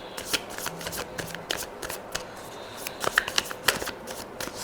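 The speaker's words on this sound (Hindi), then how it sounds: "Cards are falling." Tarot cards are shuffled by hand in quick riffling flutters, a close run of crisp papery snaps and slaps with a few louder card flicks as some fall.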